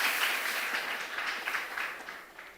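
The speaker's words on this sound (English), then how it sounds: "So I request us to clap for him and thank him in absentia." Audience at an international university dinner applauding, a dense, even wash of many hands clapping together at moderate loudness, sustained throughout and gradually tapering.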